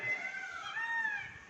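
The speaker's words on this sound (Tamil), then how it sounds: "மயில் கத்துற சத்தம் கேட்குது பாருங்க," A peacock's high, wavering call rings out over a constant bright background hiss, sustained and fairly faint, like a distant bird wailing.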